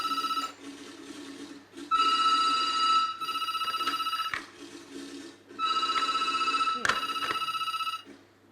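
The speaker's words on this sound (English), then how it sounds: "Summoned by the imperative ringing of the phone" A telephone bell rings in several long bursts separated by pauses, loud and close, with a faint murmur underneath.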